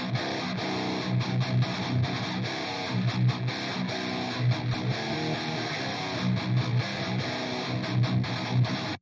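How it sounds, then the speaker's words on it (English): A full mix rendered through the built-in multi-band compressor in Studio One, built with free plugins: dense, steady music with a punchy, rhythmic low end and bright upper layers, loud and continuous throughout with no voices. "inbuilt multi-band compressor in Studio One"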